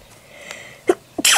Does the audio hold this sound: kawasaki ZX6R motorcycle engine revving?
no